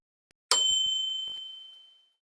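A single bright bell ding rings out after a tiny click, its clear metallic tone slowly fading over about a second and a half.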